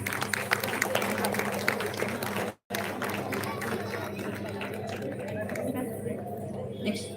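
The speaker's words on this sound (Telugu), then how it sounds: "big claps" A crowd claps for a child at a temple festival homam while voices chatter over it, a busy and steady applause that breaks off briefly partway through before resuming.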